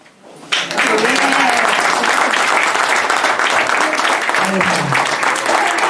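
Audience applause at a radio station's fiftieth anniversary event, bursting in after a brief quiet opening and holding loud and steady, with a voice speaking faintly under it.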